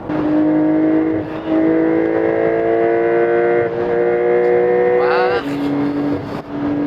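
A Porsche 911 Targa 4 GTS, 50th anniversary Porsche Design edition, driving in sport mode, its engine pulling loudly through rising revs with a gear change and climbing again, heard from inside the cabin.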